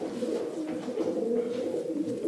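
Racing pigeons coo steadily in a breeding loft, a low continuous murmuring of several birds close by throughout, with no talk.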